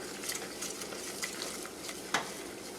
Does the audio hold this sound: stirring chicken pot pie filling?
yes